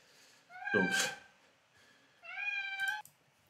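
A domestic cat meows twice, close and clear, with a short pause between the two drawn-out cries in an otherwise quiet room.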